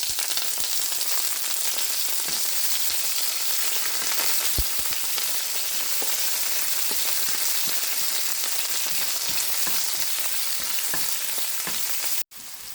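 Shallots, crushed garlic and curry leaves fry in hot coconut oil, a steady loud sizzle with occasional crackles and stirring scrapes that runs unbroken, then cuts out briefly near the end.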